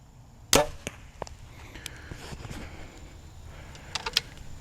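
A single sharp arrow release from an 84.5 lb Hoyt Alpha X compound bow, a loud snap near the start followed by faint scattered clicks and rustles in a quiet setting.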